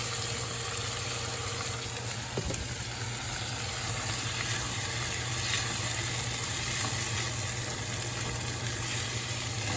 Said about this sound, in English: we'll let that saute and fry up